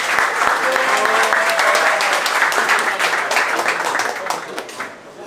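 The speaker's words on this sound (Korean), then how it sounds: "저희 서포터즈에게 감사 박수 한번 부탁드리겠습니다" Football club gathering applauding its supporters who provided a meal, a burst of dense close clapping from a small crowd that holds steady, then fades away near the end.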